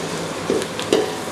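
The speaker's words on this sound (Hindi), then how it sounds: "और वो जो हमने ग्रेवी बनाई थी उस ग्रेवी को डाल देंगे हम।" Prepared gravy for a Mughlai-style Hyderabadi veg dum biryani poured into a hot pan, a soft continuous sizzle with two short louder splashing spurts about half a second apart, close by and without speech.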